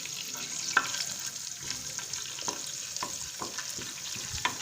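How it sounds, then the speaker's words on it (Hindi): Spices for a tadka crackle and sizzle in hot oil while being stirred for yogurt eggplant, a steady close fizz broken by small pops and the occasional scrape of a spoon. "ये देखिए हम इसको कड़कड़ा रहे हैं।"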